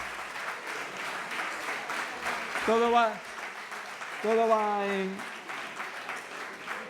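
Audience clapping at a lecture, a steady bed of applause heard under a voice, which speaks briefly twice over it.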